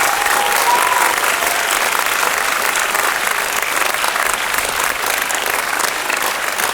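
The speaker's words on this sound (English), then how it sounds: "Another massive round of applause!" Audience at a school Last Night of Prom concert at Shrewsbury International School claps in a long, steady round of loud applause that fills the room without letting up.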